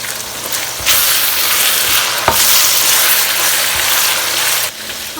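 Onions, garlic and ginger fry in oil in a pan, giving a steady, loud sizzle that runs the whole time, with a few sharp clicks from stirring and no voices.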